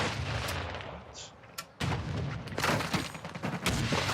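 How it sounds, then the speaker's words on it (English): A grenade goes off in Call of Duty Modern Warfare II amid continuous rumbling gunfire and distant booms, a dense, noisy battle soundscape with a few louder blasts. "Throwing grenade!"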